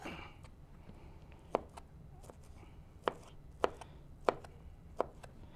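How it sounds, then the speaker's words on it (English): A knife chops cooked chicken for shredded chicken tacos in a kitchen, giving a string of sharp, separate thuds on a cutting board at an uneven pace over quiet room noise. "Finish chopping it up a little bit."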